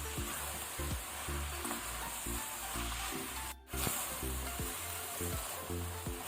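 Garlic, ginger and turmeric sizzle steadily in a pan for mutton masala, with a continuous close frying hiss, soft rhythmic stirring knocks, and a brief sharp spray burst near the middle.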